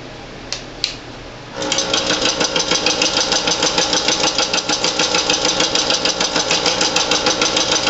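Two faint clicks, then an Excalibur scroll saw set to low speed starts up with a close, steady, rhythmic mechanical chatter as the whole machine rocks back and forth.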